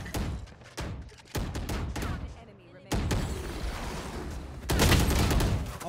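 Heavy gunfire from a Rainbow Six Siege match, with repeated loud shotgun and rifle bursts in quick volleys and short gaps, while players talk excitedly over the shooting.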